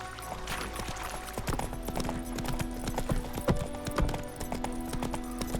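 Horse hooves clip-clop at a fast, steady gallop in The Witcher 3, with the horse's occasional whinny mixed in. The hoofbeats are loud and close and sound against a constant ambient game backdrop.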